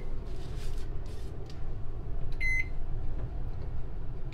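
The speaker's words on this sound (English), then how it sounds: "put our timer for 18 minutes" Kitchen oven timer being set, a single short electronic beep midway over a low steady hum and some faint handling noises.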